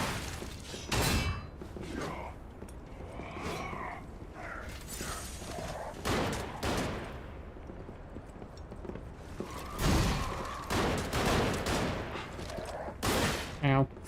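Enemy fire in the Lies of P Overture DLC, with repeated heavy shots and impacts, mechanical clanks and thuds in an ongoing fight, player voice heard amid the noise.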